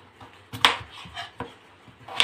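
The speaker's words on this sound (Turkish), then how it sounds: "Soymuş olduğum patatesleri de şimdi sizlerle birlikte doğrayacağım" A knife chops boiled, peeled potatoes on a board in several sharp, uneven knocks, close by and moderately loud.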